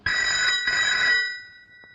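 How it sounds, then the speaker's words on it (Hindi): An old-fashioned telephone bell rings in two close, bright bursts in an indoor room, then fades away, with no talk over it. "देखो किसका फोन है।"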